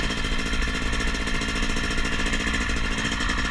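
A Yamaha YZ250X motocross bike engine chugs with a steady, loud, rough pulsing beat that runs continuously through the short stretch, no talk over it.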